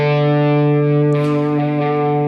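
An electric guitar plays a lick through effects, a sustained distorted tone with reverb and echo holding steady and loud for a couple of seconds.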